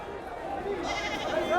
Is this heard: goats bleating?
yes